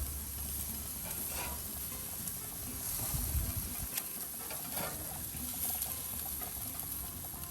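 An ostrich burger patty sizzles steadily on a barbecue grill as it is flipped, a continuous close frying hiss with a few scraping clicks from the spatula and no talking.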